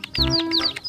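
Colorful rainbow chickens give short, close clucks layered with a few high chirping calls in a brief, busy burst of farmyard fowl sound.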